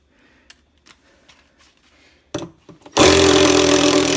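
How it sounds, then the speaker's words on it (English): An impact gun driving the 10mm stator bolts on a Whirlpool top-load washer: a few light clicks and handling knocks, then a sudden loud, sustained buzzing whir, close by. "So we're gonna use the impact gun"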